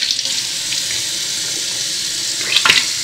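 Tap water runs steadily into a sink in a beach villa, a constant hissing splash that swells briefly near the end.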